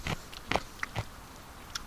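A few sharp, crisp crunches from biting into a raw carrot, close up and spaced apart in the quiet.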